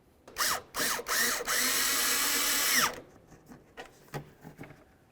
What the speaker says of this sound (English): now we can go ahead and start putting in our screws